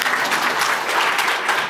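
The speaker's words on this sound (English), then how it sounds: "Virtual applause." Dense applause from an audience at a map prize award presentation, steady and fairly loud throughout the short stretch, with no voices standing out.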